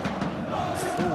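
Football stadium crowd in the eFootball video game, a dense continuous roar of cheering fans during a simulated Champions League semi-final between PSG and Arsenal, with no one speaking over it.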